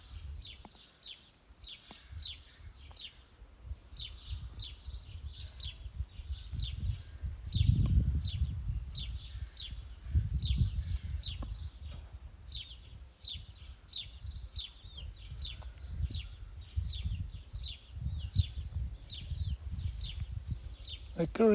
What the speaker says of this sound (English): currently the most birds around me are sparrows, and there are a few redstarts and a few kinds of finches